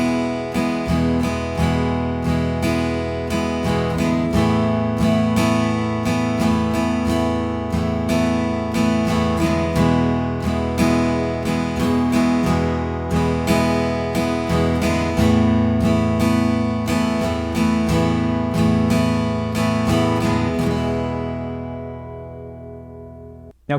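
Acoustic guitar strummed in a steady beginner pattern that alternates between two chords, with downstrokes and upstrokes ringing out continuously at moderate loudness and no talking, the last chord fading away.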